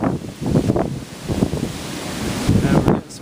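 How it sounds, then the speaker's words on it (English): Hurricane Sandy winds outside Philadelphia, strong gusts surge and fade in several rough bursts, roaring and buffeting loudly against the microphone. "we're getting some crazy wind gusts"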